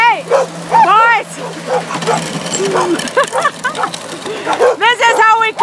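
Dogs bark and whine outdoors while snow is being cleared in a small Canadian town, the barks close and intermittent over a low machine drone, mixed with a man calling out.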